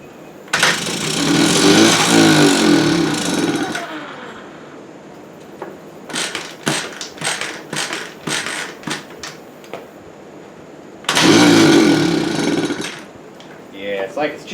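A 1979 Honda Express moped engine cranks into loud bursts of raw running, then sputters through stuttering, uneven pops before catching again; a person talks between attempts.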